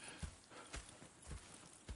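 Horses walking in Red Dead Redemption 2, steady clip-clop hoofbeats spaced about half a second apart, fairly close and quiet, with no talk over them.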